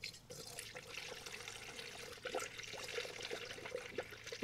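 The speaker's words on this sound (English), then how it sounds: "we should be able to start to fill this sucker up with coolant" Coolant poured into the cooling system of a cold, overheating Subaru STI makes a continuous gurgling, splashing liquid stream, close and steady, lasting several seconds with no talk.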